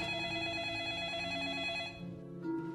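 A telephone rings with a steady, sustained electronic tone for about two seconds, then breaks off, with no voices.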